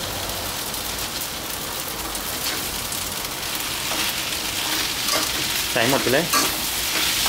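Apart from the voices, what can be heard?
stir-frying glass noodles with cabbage in a pan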